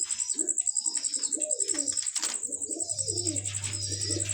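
Pigeons coo repeatedly in soft, throaty bursts, close by, with a high steady tone running over them and a low hum joining partway through.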